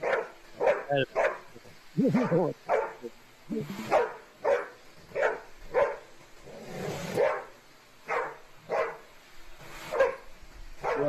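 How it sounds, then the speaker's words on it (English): A dog being chased with a vacuum cleaner barks and yips repeatedly in sharp bursts, with people talking over and between the barks throughout. "They're literally torturing this dog with the vacuum."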